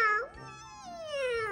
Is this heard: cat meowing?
yes